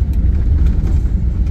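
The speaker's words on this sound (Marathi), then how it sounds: "बस चालते" A bus on the road to Shirdi gives off a steady, close, low engine rumble and road drone, heard from inside the vehicle with no talking.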